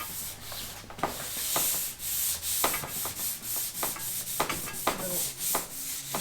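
Wet sanding a diesel oil pan by hand with 320-grit sandpaper: close, steady back-and-forth rubbing strokes in an even rhythm, with no talking.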